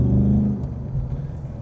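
A Ford Mustang Dark Horse on a racetrack at the Bend in South Australia gives a deep, fairly close engine rumble that fades from loud to a softer, rougher drone.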